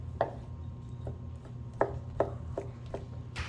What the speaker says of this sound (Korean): 그래서 듬성듬성 썰어주겠습니다.